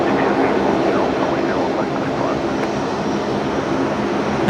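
A Rex Saab turboprop airliner prepares to taxi at Brisbane Airport, its engines producing a loud, steady, broadband roar with a faint pulsing whine, continuous throughout at fairly close range.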